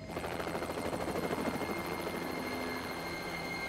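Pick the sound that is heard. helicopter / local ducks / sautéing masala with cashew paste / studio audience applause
helicopter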